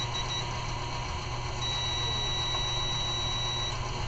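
A steady electronic beeping tone from an Epson printer in beep mode during repair sounds over a constant mechanical hum, high and thin, continuing through the whole short stretch.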